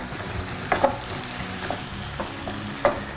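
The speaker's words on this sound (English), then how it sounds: "So we stir that down for a little bit." Vegan tuna pasta sauce sizzles softly in a pan while a utensil stirs it, with a few sharp scrapes and taps against the pan over a low, steady frying hiss.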